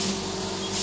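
An HVLP spray gun sprays in a continuous close, loud hiss that holds steady for under a second, with a faint mechanical hum beneath and no talking.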